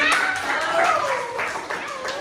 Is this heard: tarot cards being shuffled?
no